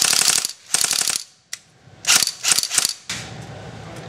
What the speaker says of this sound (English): It all comes from the metal clanking sound that the bolt mechanism makes.